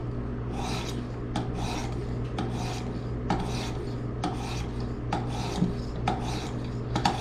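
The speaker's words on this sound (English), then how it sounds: "I'm going to switch over to the 800 grit, and I'm going to start again at 10 strokes on each side." Knife blade drawn across an 800 grit stone on a Worksharp Precision sharpener, a run of about ten evenly spaced rasping strokes, close and clear with a low steady hum beneath.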